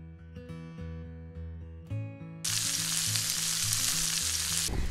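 Asparagus spears frying in a pan alongside a porterhouse steak, starting with a low rumbling murmur and then bursting into a loud, steady, close-up hiss of sizzling fat that holds for several seconds.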